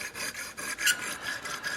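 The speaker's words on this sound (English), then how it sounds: "as soon as I started sharpening this other side of the blade" Magnus Bullhead knife blade drawn over a whetstone in quick repeated strokes, close and fairly quiet, giving a rhythmic rasping scrape with occasional brighter metallic edges.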